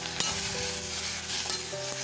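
Leaves sauté in a pan over a medium flame, giving a steady close sizzle with faint stirring scrapes and no talk.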